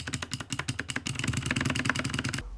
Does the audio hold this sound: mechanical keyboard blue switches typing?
yes